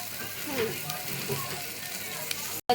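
Masoor lentils and green chilli sizzle in a frying pan with a steady, close hiss and crackle that continues throughout, ending with a sudden short cut.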